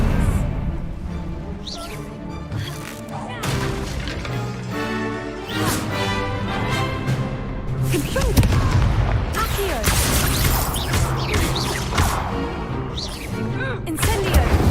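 Incendio fire spells blast repeatedly during a wizard duel in Hogwarts Legacy, a dense barrage of loud booming bursts and crackling impacts that fills the whole stretch without pause.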